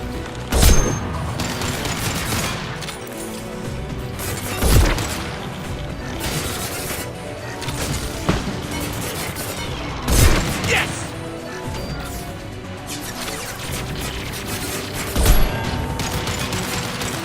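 Gunfire in the video game Mass Effect 2: heavy, booming shots burst out roughly every four seconds over a constant loud clatter of combat noise.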